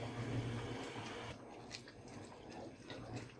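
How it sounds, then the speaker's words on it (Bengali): Palm fruit payesh, a Bengali milk pudding, is stirred steadily in a pot as it thickens, giving soft continuous wet squishing and scraping sounds, close and moderately loud with no talking. "এখন আমি অনাব্রত নাড়তে থাকবো এভাবে যতক্ষণ না পায়েসটা ঘন হয়ে আসে"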